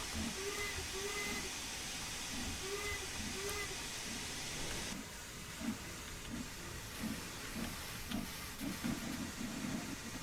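A steam locomotive in Train Sim World 2 slips its wheels on the Liverpool Lime Street to Crewe line. Loud hissing steam and rushing noise build to a run of quick, rhythmic chuffs, all steady and close.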